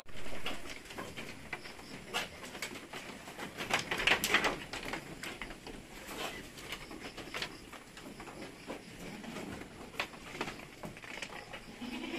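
Purebred Anglo-Nubian goats bleating on a farm, a few scattered calls with the loudest burst near the middle, over a busy outdoor background that includes birds.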